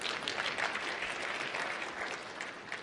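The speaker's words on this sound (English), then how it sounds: "Applause on that." Applause from a crowd at a big-data technology conference keynote, a dense wash of clapping that holds steady for a few seconds.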